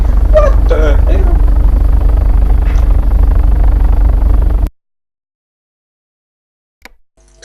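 Helicopter engine in the Take On Helicopters game with the throttle rolled off, a loud steady rotor and turbine drone under radio-style talk that cuts abruptly to silence, followed by a faint brief click near the end.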